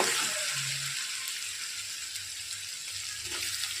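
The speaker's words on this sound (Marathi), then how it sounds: "लसूण जिऱ्याची पेस्ट घेतली आहे, ते पण छान परतून घेऊया" Garlic and cumin paste sautéing in a pan with onion and chillies, giving a steady, bright hiss of sizzling oil that stays fairly soft and even throughout, without speech.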